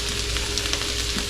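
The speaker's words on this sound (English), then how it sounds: "Just push it down on the pan and sizzle it." Fajita meat pressed down in a hot pan sizzles and crackles steadily at close range, with no talking.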